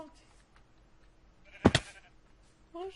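A sheep bleats in the Minecraft video game, a short loud double bleat rising in the middle over a quiet background, with a brief faint sound near the end.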